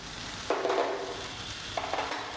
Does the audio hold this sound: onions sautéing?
yes